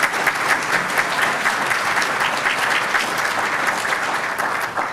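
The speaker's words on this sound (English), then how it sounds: "So if you guys could join me and give me a round of applause to the panel." An audience at a housing forum applauds a panel, steady, dense clapping from a crowd that carries evenly throughout without talk.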